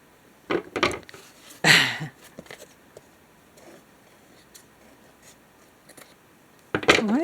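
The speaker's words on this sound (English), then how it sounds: "Maybe I'll just try the scissors and hope I don't cut the other part." Scissors snip at a handmade journal cover in a few sharp close bursts, separated by quiet handling, with a louder rustling cut near the end.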